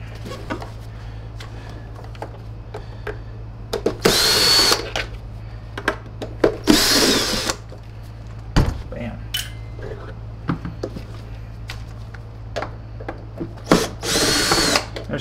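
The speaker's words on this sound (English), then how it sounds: "Let's retract the cord." A SEBO Airbelt C3.1 canister vacuum's cord winder retracting its power cord, heard as several short, loud whirring rushes close by, separated by quieter handling clicks and a low steady hum.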